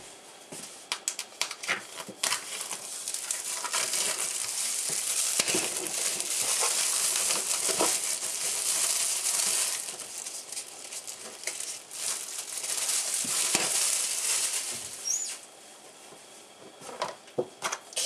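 Packaging on a gesso container being opened, with a long run of close crinkling, rustling and crackling plastic or paper, loud and continuous with scattered sharper snaps, then settling into softer handling at the end.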